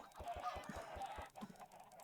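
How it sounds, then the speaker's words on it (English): Many chickens in the video game Minecraft give a rapid series of clucks and squawks, pulsing in a steady rhythm at moderate volume with no talking. "Don't ask why there's so many chickens."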